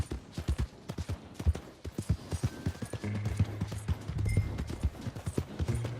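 Rhythmic clip-clop of horse hooves at a steady walking pace in Red Dead Redemption 2, close and distinct, with a low tonal hum of ambient travel music joining partway through.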